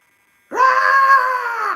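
After half a second of silence, a human voice imitates the Werehog scream from Sonic Unleashed: one loud, sustained, strained groaning howl held for over a second.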